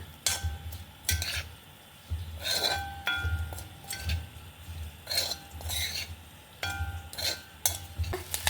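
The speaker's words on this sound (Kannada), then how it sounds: "ಒಂದೂವರೆ ಟೇಬಲ್ ಸ್ಪೂನ್ ಅಪ್ಪಷ್ಟು ಡ್ರೈ ಕೋಕೋನಟ್ ಅಂದರೆ ಗೋಟ್ಕಾಯಿ ಹಾಕಂತ ಇದ್ದೆ ಹುರಿದು. ಇದನ್ನು ಸ್ವಲ್ಪ ಹುರ್ಕೊಂಬ." Dry coconut roasting in a pan for capsicum masala rice, with a spoon stirring and scraping in repeated strokes and occasional metallic clinks over a faint, steady sizzle, close and alone.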